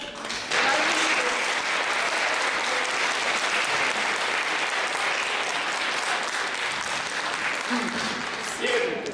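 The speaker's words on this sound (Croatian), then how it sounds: "Hvala vam na ovom toplom aplauzu" Warm applause from the audience at a Rijeka Waldorf school's 16th anniversary celebration at Filodrammatica, a dense steady clatter of many hands that swells in after a brief pause and holds loud and even throughout.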